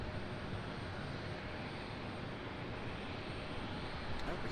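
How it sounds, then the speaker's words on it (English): A Southwest airliner departing from Raleigh Durham airport gives a broad, steady engine roar that holds at a constant level throughout, with no voices over it. "Oh, we got a southwest departure over here."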